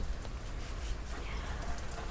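Rain falling steadily over a southern garden with ferns, a soft dense patter of drops, fairly faint and continuous, with no voices.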